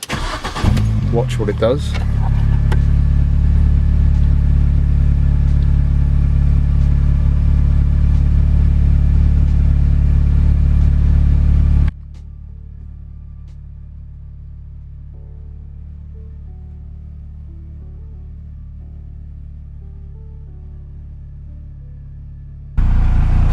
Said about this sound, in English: Let me go ahead and just switch the engine on